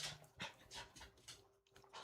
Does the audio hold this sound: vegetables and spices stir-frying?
no